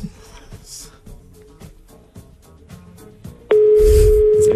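A Skype call dials out. After a few seconds of softer, irregular sounds, a loud, steady ringing tone starts and holds to the end.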